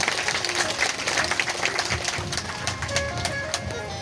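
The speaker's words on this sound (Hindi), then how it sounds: "एक बार फिल्म बनाने के वालों के लिए और भगवान नरसिंह के लिए तालियां बजा करके" A crowd at a Bhagavata Katha gathering claps for Lord Narasimha and the filmmakers, a lively, dense round of applause with crisp individual claps and some faint crowd sound beneath.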